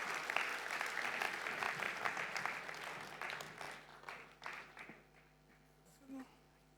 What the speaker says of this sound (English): Huge round of applause for our first startup.